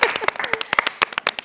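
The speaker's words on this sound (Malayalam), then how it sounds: "നല്ലൊരു കൈയടി കൊടുക്കാൻ വരുന്നത്" Studio audience applause on a Malayalam TV game show, a brief burst of dense, overlapping hand claps rising and falling at a steady level close to the microphone.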